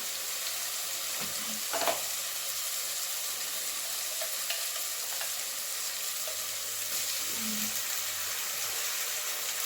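Sliced onions and ginger garlic paste fry in a pan as the base for a chicken curry, giving a continuous close sizzle and crackle with occasional stirring scrapes, and no voices.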